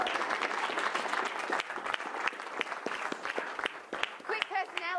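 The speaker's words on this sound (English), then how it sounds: "So I'd like us all to give a big round of applause for Rowie." A business conference audience gives a round of applause, with scattered hand claps building into steady clapping, and a voice speaks briefly near the end.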